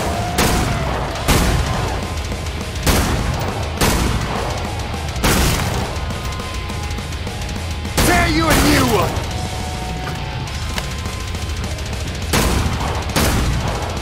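Gunfire in the survival mode of Killing Floor 2 on the Containment Station map: loud, sharp shots repeat every second or so, each with a booming tail, over a dense backdrop of game noise.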